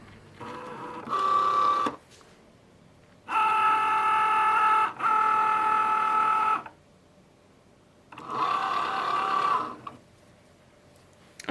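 A Cricut cutting machine calibrates and loads material while a card is being made, giving three separate bursts of whirring, buzzing motor noise with quiet pauses between them, close and fairly soft.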